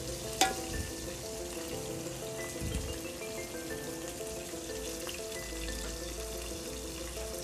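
Okra with eggplant fries in a pan for a vegetarian fish curry, a soft steady sizzle with a brief clatter near the start, no voices.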